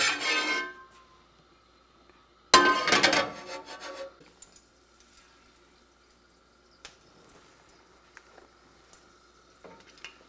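Italian peppers fry in olive oil in a pan, giving two loud bursts of sizzle when stirred, then a quiet, steady crackle with scattered small pops.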